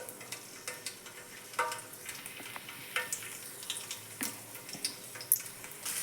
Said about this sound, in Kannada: ಸ್ವಲ್ಪ ಎಣ್ಣೆ ಕಾದೈತ್ರಿ ಇದು. ಅದಕ್ಕೆ ಸ್ವಲ್ಪ ಬೆಳ್ಳುಳ್ಳಿ ಹಾಕ್ತೀನಿ ರೀ. ಈಗ ಬೆಳ್ಳುಳ್ಳಿ ಹಾಕ್ತೀನಿ ನೋಡ್ರಿ.